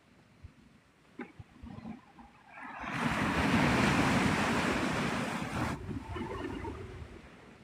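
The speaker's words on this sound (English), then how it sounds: "ooh, that was a big wave" Ocean surf at Navarre Beach, Florida, a large wave breaking close by with a loud, sustained rushing wash that swells and slowly recedes, set against quieter ambient shore sound with faint wind.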